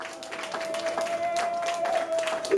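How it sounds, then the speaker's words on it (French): Wedding guests applauding at an official civil marriage ceremony in Talangaï, steady scattered clapping from a crowd with a sustained tone and a few voices mixed in. "Nous vous prions de bien vouloir applaudir une fois de plus pour elle."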